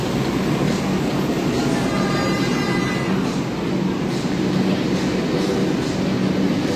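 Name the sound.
Kolkata Blue Line metro train at platform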